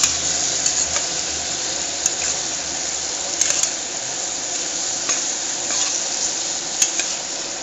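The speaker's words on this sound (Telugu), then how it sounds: "ఇది పసుపు వేసి ఈ విధంగా కలుపుతున్నాం అనమాట" Potatoes fry in oil as turmeric is stirred through them, a steady close sizzle with intermittent scraping and clicking from the spoon against the pan, no voices.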